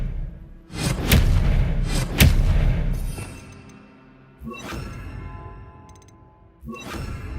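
Expelliarmus disarming spell cast in Hogwarts Legacy, heard as a loud whooshing magical burst with sharp impacts and a ringing chime, then fainter shimmering follow-up effects, with no voices.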